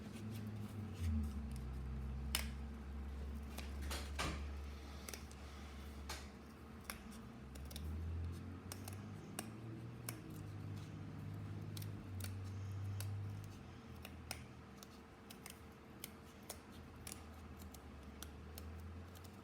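Scissors snipping through material to cut out circles for a homemade pop-it fidget toy, with steady, irregular sharp snips and clicks of the blades over a constant low room hum, close up with no talking.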